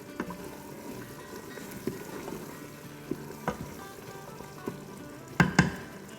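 Paya and fried onions sautéing in an Instant Pot, a soft steady sizzle close by with occasional sharp clacks and scrapes of a stirring spoon against the pot, heavier near the end.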